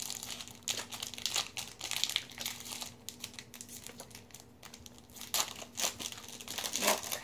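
Foil wrappers of 2017 Topps Walking Dead Season Six trading card packs crinkle and crunch up close in repeated bursts as packs are torn open, with a steady low hum underneath.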